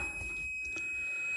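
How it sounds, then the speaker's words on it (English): A multimeter in continuity mode beeps as a car door is opened during wiring harness work on a VW Bug: a steady high electronic tone sustained through the short clip, fairly faint and alone. "So if somebody goes to open the door, the multimeter should beep."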